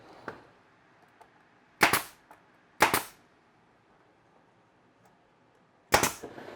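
A nail gun fires into a frame-and-panel cabinet door: three loud, sharp pneumatic cracks spaced a second or more apart, with a few small taps and quiet handling in between.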